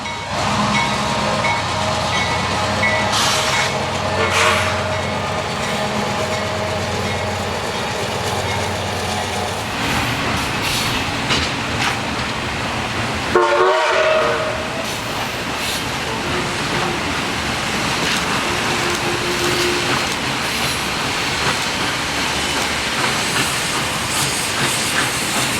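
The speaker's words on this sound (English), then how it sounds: "another Norfolk Southern train came into view, a westbound intermodal with a Union Pacific leader" A Norfolk Southern westbound intermodal freight train led by a Union Pacific locomotive rolls past near Chattanooga, with a steady rumble, hiss and clatter of cars that shifts midway as the train keeps passing.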